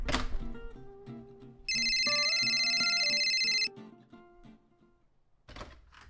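A telephone rings with a steady electronic tone for about two seconds amid background music, part of a tense exchange over a kidnapper's awaited call.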